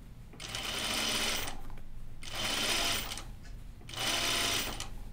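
A sewing machine stitches a caftan seam in three loud, close bursts of steady running, each separated by a short pause, with no voices.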